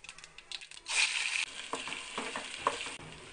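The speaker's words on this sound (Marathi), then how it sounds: "आता याला आपण परतून घेऊया तेलात" Ground masala paste sautés in oil with cumin and mustard seeds, a close, uneven frying hiss with bursts of sizzle and stirring scrapes, no talking.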